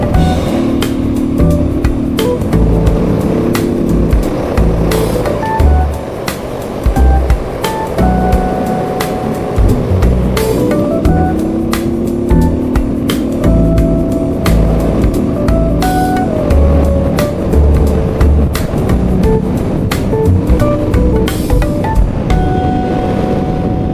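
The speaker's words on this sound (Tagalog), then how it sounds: "Tingnan ko nga kung hanggang saan ang lakas nitong motor na to, be." A motorcycle engine running at speed, a continuous loud drone with shifting pitch as it accelerates and changes gear, over steady wind and road rush close by.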